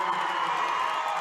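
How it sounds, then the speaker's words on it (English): A high school boys basketball semifinal crowd cheers and applauds as the starters leave the court, a brief, steady wash of clapping and voices. "As the starting lineup subs out, they get a rousing applause from this Camas crowd that's made the long trip down."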